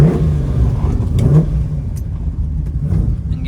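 A 1969 Chevrolet Camaro Yenko tribute with a 427 big block and four-speed revs loudly nearby, a deep continuous engine roar with a brief rise in the middle and no talking.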